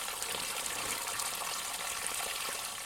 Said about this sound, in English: So right now, in the background, I have our water boiling